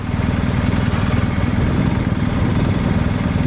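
A motorcycle engine runs at a low, steady throb during a slow-speed rolling start, close and constant with a rough, even pulse and no voices.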